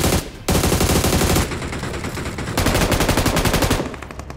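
Rapid automatic gunfire in PUBG on an iPhone XR, loud and close, coming in dense sustained bursts with brief shifts in tone as a downed enemy is finished off.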